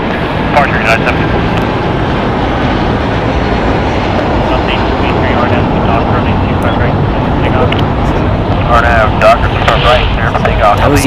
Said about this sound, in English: That was United Airlines flight 754 on its way to EWI Boeing 757-200